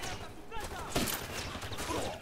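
Gunfire in Ghost Recon Wildlands, a single sharp shot near the one-second mark amid ongoing bursts of fire, with voices talking over the game's ambient noise.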